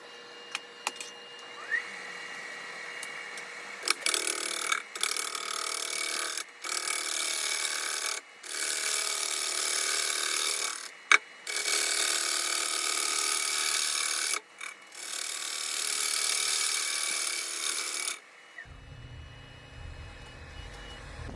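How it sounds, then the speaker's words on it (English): Shear scraping with a negative rake scraper across the bottom of a wooden bowl on a lathe, a steady close rasping whir broken by several short pauses before the sound stops near the end. "I'm just going to finish off the bottom with a negative rake scraper, doing some shear scraping here"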